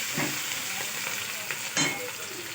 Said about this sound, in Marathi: तेही छान मिक्स करून 2 मिनिटं परतवून घेऊया.